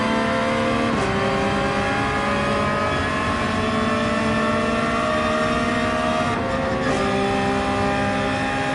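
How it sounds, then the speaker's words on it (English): Race car engine in the Gran Turismo video game revving hard and steady near the limit, a loud continuous drone with a couple of brief gear-shift dips, no talking. "Ooh, over-revved."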